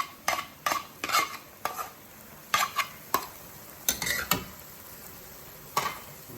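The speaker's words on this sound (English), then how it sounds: "You see it still is boiling now. Put that juice back on." Meat juices for lomo saltado bubble and sizzle in a pan, broken by repeated sharp clinks and scrapes of a utensil stirring against the metal, close and moderately loud with no talking.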